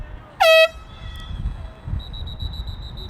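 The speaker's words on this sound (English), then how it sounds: "flag is down right when the air horn sounds" One short, loud blast of an air horn at a youth lacrosse game, followed by quieter background noise and a faint repeating high beep.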